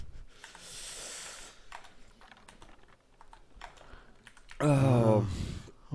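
Typing on a laptop keyboard, with scattered irregular key clicks, soft and close, between stretches of background noise; a loud voiced sound breaks in near the end.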